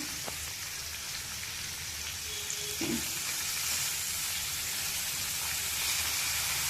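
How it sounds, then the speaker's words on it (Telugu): Chicken fry sizzling steadily in a pan after coriander has been added, with a constant crackling hiss throughout and a soft scrape or two of stirring, close and moderately quiet, with no talking. "మెల్లగా ఇది జాగ్రత్త తిప్పుకోవాలి. ఇట్లా జాగ్రత్త తిప్పేసుకోవాలి."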